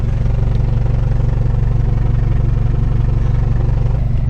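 Steady, loud engine drone of an off-road overlanding vehicle driving along a muddy track in the Kimberley, with a low rumble and faint rattle running unbroken throughout and no talk.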